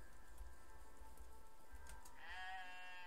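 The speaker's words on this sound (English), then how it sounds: "why is there a goat?" A goat bleats in the video game Oneshot, a rising wavering cry near the end over a steady rain-like hiss and low rumble, with no talk.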